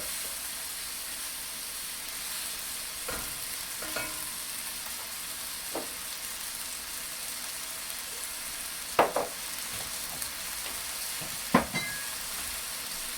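Garlic and onions sweat in a pan, giving a soft, steady sizzle under a few scattered clinks and scrapes of stirring, with no one talking.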